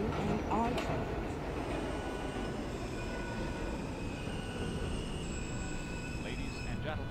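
An N subway train runs between stations, a steady loud rumble of wheels on track with metallic squeals and rattles throughout, heard from inside the car.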